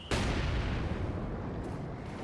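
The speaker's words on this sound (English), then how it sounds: "And more half tracks are firing away" Gunfire from a half-track in the video game Company of Heroes 2 opens with a sharp, loud blast, then a heavy rumbling roll of sustained fire and explosions that dies down slowly.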